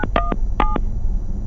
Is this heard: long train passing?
no